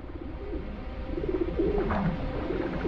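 City pigeons bathing in shallow water in Albi coo in low, throaty, repeated phrases, close by, over a constant murmur of background noise.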